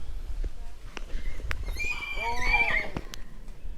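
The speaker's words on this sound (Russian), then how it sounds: "Эти лошадки ждут свою очередь." Horses waiting their turn for vaccination whinny in clear, rising calls over the steady clop of hooves, with a general outdoor bustle of livestock behind and faint voices in the background.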